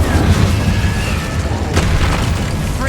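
A Bombarda explosion spell goes off in the video game Hogwarts Legacy, a loud, dense boom with a rumbling low end that sustains across the moment, close and without speech.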